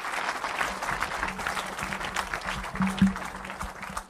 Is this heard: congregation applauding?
yes